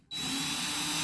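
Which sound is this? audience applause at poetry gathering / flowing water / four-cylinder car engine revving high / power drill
power drill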